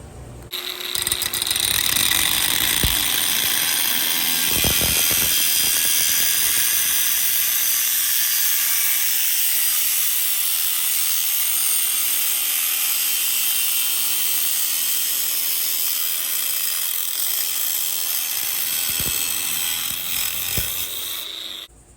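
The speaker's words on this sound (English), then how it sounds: "I'll go ahead and cut it with the angle grinder." An angle grinder cuts through a custom exhaust pipe for a Harley Panhead chopper in a workshop, giving a steady, loud high-pitched metallic whine that runs unbroken for about twenty seconds, with a few brief clunks near the start and end.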